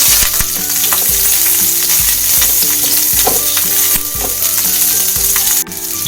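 Garlic, ginger and onion fry and sizzle in a hot pan, a steady crackling hiss with occasional stirring scrapes and clinks throughout.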